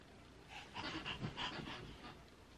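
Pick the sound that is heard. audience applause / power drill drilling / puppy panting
puppy panting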